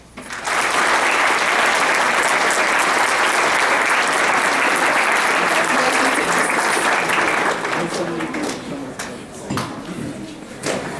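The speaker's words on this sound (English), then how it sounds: "Please join me in recognizing all these cadets with a round of applause." A crowd at a JROTC military ball applauds a group of cadets, a loud, sustained wall of clapping that gradually thins out, with voices emerging as it fades.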